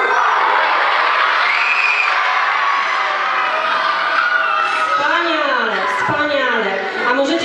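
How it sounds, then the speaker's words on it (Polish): A large audience of children in a theatre roars loudly as one, a dense sustained crowd shout that rises and breaks into scattered whoops and cheers near the end. "To możecie teraz tak zaryczeć, żeby tutaj, nie wiem, cały Lublin słyszał?"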